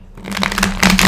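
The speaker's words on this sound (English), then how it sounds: "So three shuffles for Pisces." A deck of tarot cards is shuffled by hand, two quick close riffling bursts of papery flutter, loud and with no voice.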